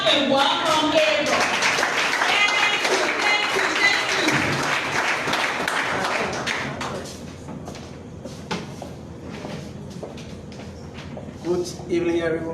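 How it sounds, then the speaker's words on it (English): Sustained applause from an audience welcoming a speaker, dense and loud at first, then thinning into scattered claps as it fades, with a few voices near the end. "Please clap"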